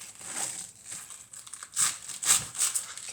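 Knife slicing collard greens into medium strips on a cutting board, a series of crisp crunching cuts with a few louder chops near the end, close and alone.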